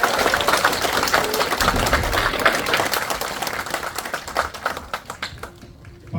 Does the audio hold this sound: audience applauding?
yes